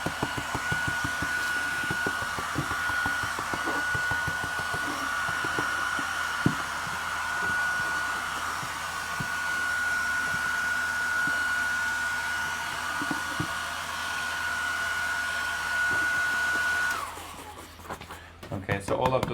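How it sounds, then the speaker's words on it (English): A hairdryer blows steadily and loudly to dry paint on a pumpkin, a constant whine running for about seventeen seconds before it cuts off near the end. "I'm going to give it a quick little blast with the hairdryer"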